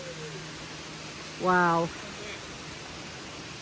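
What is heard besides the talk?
waterfall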